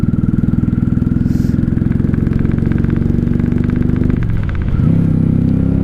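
A 1995 Honda Shadow VLX 600 (VT600CD) V-twin motorcycle running close by, a steady throbbing engine pulse that holds through riding, dips briefly with a gear change near the end, then returns strong and loud.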